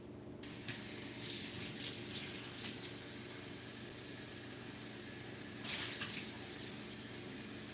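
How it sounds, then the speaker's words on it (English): A kitchen tap runs steadily into a sink as water is drawn for boiling tea, a close, continuous splashing hiss that swells slightly near the end. "I should boil some water and we should make some"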